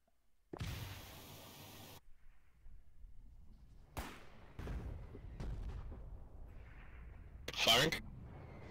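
Collie artillery pieces firing in the war game Foxhole: a few heavy, booming shots spaced several seconds apart, each with a sharp broadband burst and rumbling tail, loud and fairly close, with a voice calling out between them.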